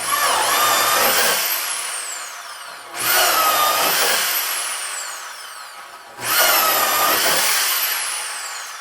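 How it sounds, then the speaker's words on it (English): A corded drill whines loudly in three long bursts, each spinning up sharply and slowly winding down as it bores holes into material, in a garage shop. "If you've got a lot of holes to drill, don't mess around. Use a plug-in drill."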